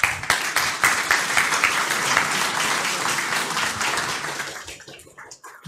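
An audience applauds at a youth hackathon event, a dense burst of many hands clapping that holds steady for several seconds before thinning out into a few scattered claps.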